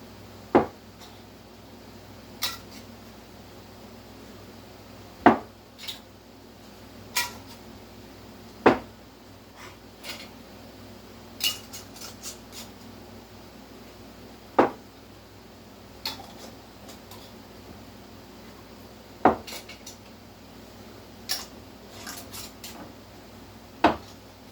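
Hot canning jars of homemade sauce are lowered with a jar lifter into a pot, giving sparse, irregular glassy clinks and knocks spaced every couple of seconds over a quiet kitchen hum.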